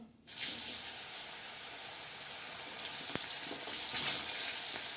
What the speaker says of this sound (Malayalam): എണ്ണ നന്നായി ചൂടായിട്ടുണ്ട്. നമുക്കിതിലേക്ക് ഈ മാങ്ങ